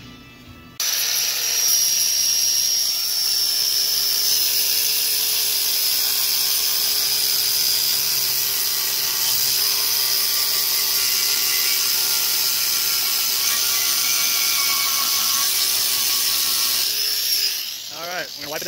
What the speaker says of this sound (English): we're going to take the grinder, we're going to grind up the little lips there